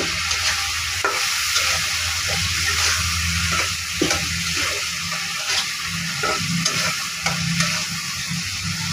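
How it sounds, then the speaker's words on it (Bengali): Small fish frying in oil in a pan with stirring, being cooked for a brinjal and small-fish curry; a steady close sizzle runs throughout, punctuated by regular scraping strokes of a spatula. "এখন আমি মাছ দিয়ে দিব, মাছটাকে দিয়ে ভালোভাবে কষিয়ে নেব।"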